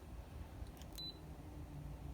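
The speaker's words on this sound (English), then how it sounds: "You hear that beep? Look, as soon as I touch it, right there." Kaiweets HT112B smart multimeter giving a single short, high beep as its probes touch, clear but brief above a steady low room hum.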